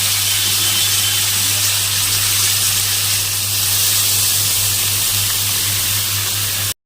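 Water poured into a hot pan of frying puti fish gives a loud, steady hiss and sizzle of steam that holds for several seconds before cutting off abruptly.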